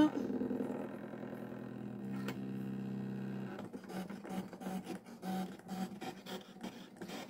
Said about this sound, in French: Allez, c'est parti pour la découpe.